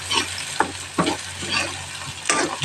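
A hotdog fries in a pan, crisping up, with a steady close sizzle broken by several sharp scrapes and clatters as it is stirred and turned.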